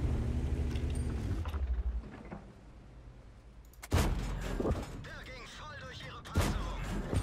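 Tank cannon blasts in the World of Tanks video game, with the E 25 tank destroyer firing: two loud, sharp booms a few seconds apart over a rumbling battlefield background, while a player talks over the game.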